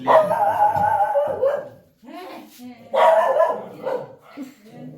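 A dog indoors in a house barks and whines in drawn-out, tonal bursts, two main outbursts separated by a short lull, close and fairly loud.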